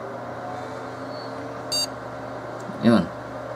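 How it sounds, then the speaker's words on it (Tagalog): A desktop computer sounds its POST BIOS beep code after restart, one short electronic beep near the middle and a brighter chirp toward the end over steady background hum and room noise. "pakinggan natin ulit yung beep codes"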